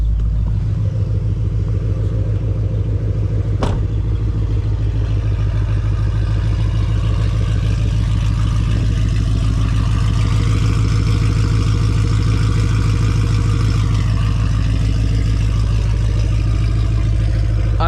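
A 2024 Ford Mustang GT with a full aftermarket exhaust idles with a loud, deep, throbbing rumble, steady and close, with a brief sharp blip early on.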